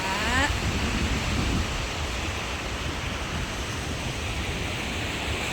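Steady roar of heavy surf at Haeundae Beach, Busan, on a rainy day, washing continuously, loud and broadband, like rough sea close at hand with wind in the mix.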